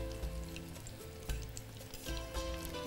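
Green chillies fry in oil in a pan, a steady close sizzle with light crackling and a few soft scrapes as they are turned, with no voices.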